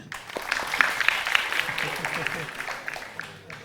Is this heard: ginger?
no